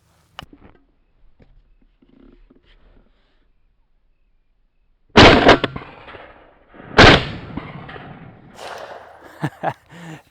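Two loud, sharp shotgun blasts from a lightweight TriStar Viper G2 .410 bore shotgun fired outdoors, spaced about two seconds apart, each followed by a short decaying echo, with faint movement sounds before and after.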